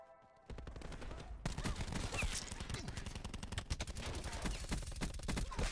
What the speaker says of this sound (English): Gotta love the suppressors.